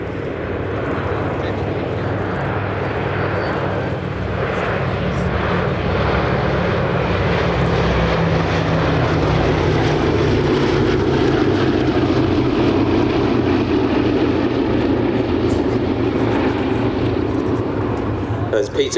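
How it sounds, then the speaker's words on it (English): Deep, loud drone of a B-17G Flying Fortress's four 1,200-horsepower Wright Cyclone turbo-supercharged radial engines passing overhead at an airshow, rising and swelling steadily, with a voice talking over the roar. "The lovely noise from those 4 1200 horsepower Wright Cyclone turbo supercharged radial engines."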